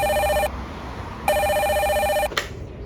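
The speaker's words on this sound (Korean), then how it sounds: "순간뽀짝 사무실로 걸려온 한 통의 전화" An office telephone rings with an incoming call: two loud, bright electronic trills separated by a pause, then a short click as the receiver is picked up.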